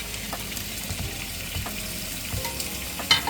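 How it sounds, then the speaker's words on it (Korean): Pork belly grills nearby with a steady, soft crackling sizzle and occasional faint pops, heard alone without talk. "옆에서 삼겹살 구워서 사박사박 소리 났어."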